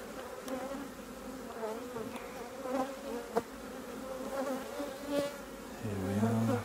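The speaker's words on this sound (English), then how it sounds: "Few bees there, very covered in yellow dust there." Honeybees buzzing steadily at a recently merged hive colony, a dense close drone of many wings with a louder lone bee passing near the end.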